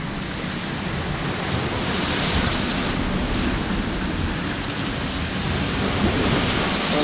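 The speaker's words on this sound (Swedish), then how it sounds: "Jag skulle säga att vågorna är stora som igår kväll." Ocean waves wash around a sailing boat on the Ionian Sea, a steady rushing roar of surf and water mixed with heavy wind buffeting, continuous and loud throughout with no voices.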